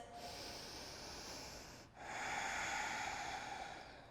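Slow, deep breathing during a yoga stretch: a long, steady airy breath, a brief pause, then a louder, rougher breath through the nose. Close and alone, with no talking.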